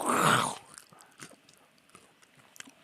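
Crunchy rolled Takis tortilla chips are chewed up close, with one loud bite at the start followed by quieter, scattered crunches and mouth sounds.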